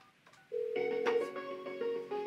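A Mitel 6930 desk phone rings on an internal call: a short, clear electronic ring with a bright tonal warble, heard close and alone in a quiet room.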